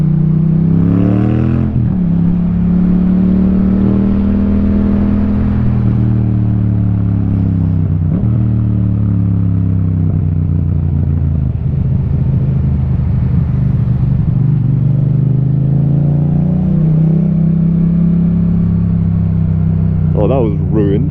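A Yamaha MT-07 motorcycle with an Akrapovic full titanium exhaust, ridden in central London, gives a loud, close, continuous engine rumble whose pitch rises and falls through repeated revs and gear changes for the whole stretch.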